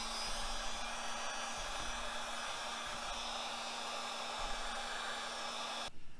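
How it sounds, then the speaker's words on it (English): A heat gun blows steadily while stretching vinyl over a Tesla Model 3 steering wheel, a close, constant airy roar with a faint low hum, cutting off near the end. "I do have some footage of me doing some final touches with the heat gun"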